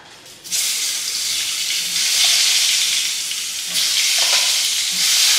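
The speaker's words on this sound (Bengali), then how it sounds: "আলুটা এদিকে ভাজা হতে থাকে" Potato pieces fry in hot oil with turmeric and salt in a wok, a loud, steady sizzle that jumps up at the start and swells briefly as they are stirred, with no voices.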